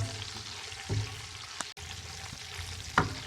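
Raisins and coconut frying in a pan until light brown, a quiet continuous sizzle with a few soft scraping stirs and light clicks of a utensil.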